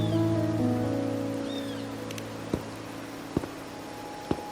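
Steady soft rain patters in Raguna, a location in the video game Wuthering Waves. A gentle wash of drops sits under a sustained low musical drone, and a few faint clicks break through.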